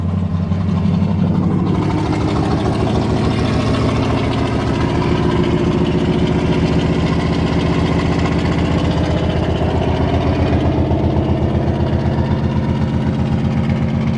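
A carbureted 1978 Chevrolet K20 truck engine idles steadily after a cold start on a winter morning, a loud, close, continuous low rumble with a fast even pulse.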